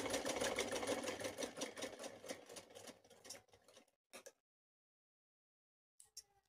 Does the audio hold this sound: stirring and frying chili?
no